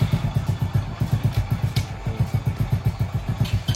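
A motorcycle engine running at low revs while the clutch is let out slowly, with a steady, loud, pulsing thump that is close and even throughout, outdoors on a farm during Sankranti celebrations.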